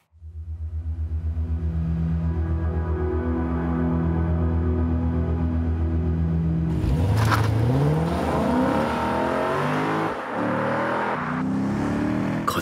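A Lexus V8 engine idles with a steady low rumble, then revs sharply upward around the midpoint before easing back and settling, heard up close and loud with no talking.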